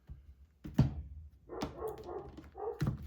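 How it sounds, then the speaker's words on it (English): Dogs barking in agitated bursts, a few sharp barks and yelps spaced across a few seconds, close and moderately loud with no talk over them. "My dogs are freaking out right now."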